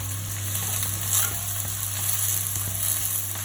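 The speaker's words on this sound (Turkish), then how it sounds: "Soğan ve sarımsağı pembeleşene kadar kavuralım" Onion, garlic and green peppers fry in oil in a cooking pot for a vegetable stew, giving a close, steady sizzle with soft crackles and occasional stirring, and no talking.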